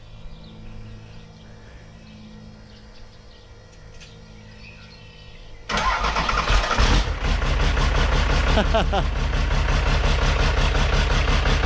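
A Cummins 5.9 12-valve diesel with a large turbo fires up after a quiet stretch and settles into a loud, steady, close-up diesel rumble. No speech is heard.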